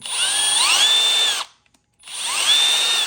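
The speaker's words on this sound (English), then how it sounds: "you're going to need another drill bit that's slightly bigger to drill the center" A power drill boring a center hole with a slightly larger bit, next size up from 1/8, during assembly of a 1/6 scale Sdkfz7 model kit; two whining bursts with rising pitch, separated by a brief pause.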